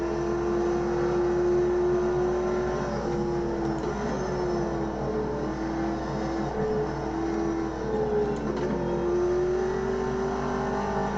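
A Viper-like racing car engine in the AMS2 sim racing game, a steady droning tone that swells and dips gently as the revs rise and fall, heard alone and close throughout.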